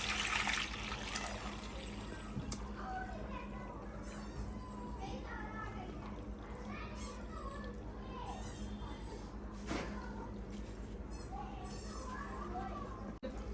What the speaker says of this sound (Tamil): இப்போ இதை எடுத்து வடிச்சிடணும். இப்போ இப்படி வடிச்சுக்கோங்க.